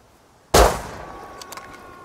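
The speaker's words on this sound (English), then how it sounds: "Stefan, could you just shoot once?" A single sharp gunshot from a video game, a loud close crack with a brief fading tail, followed by faint clicks and a thin tone.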